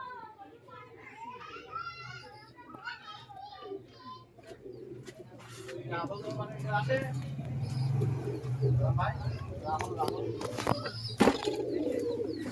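A flock of Andhra pigeons coos in a low, continuous murmur that swells midway. Children chatter and shout, and someone speaks over it throughout.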